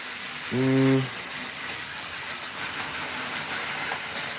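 Trains rumble along tracks in the Trackmaster Universe video game, a steady hiss and rail noise that runs through the whole stretch, with a brief loud horn-like tone early on.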